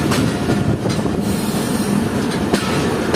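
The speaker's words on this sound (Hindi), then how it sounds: "तो हमारी ट्रेन यहाँ पे रुकेगी नहीं," Jaffer Express passenger train running through a station without stopping on a single-line route in Pakistan, a steady loud rumble of railcars with clickety-clack of wheels and faint wheel squeal, continuous and close, no talking.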